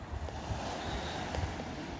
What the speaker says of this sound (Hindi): मेडिटेशन के लिए लहरों की आवाज़ भी बहुत अच्छी रहती है